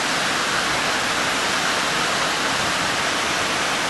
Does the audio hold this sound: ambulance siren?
no